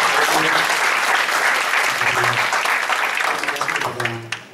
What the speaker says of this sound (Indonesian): Berikan tepukan yang meriah bagi Tuhan Yesus